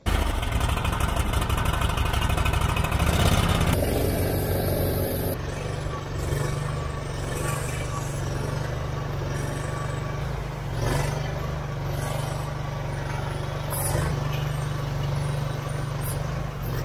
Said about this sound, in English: We'll start the Brant 1547 up, drive it back